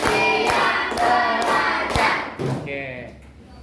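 Classroom of students clapping a counted clap pattern, loud rhythmic group claps and thuds close by, with children's voices mixed in toward the end.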